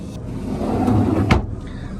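A large drawer on a 2024 Tiara Yachts 44 Coupe slides open with a rumbling scrape, ending in a sharp knock as it reaches its stop. It is close and fairly loud.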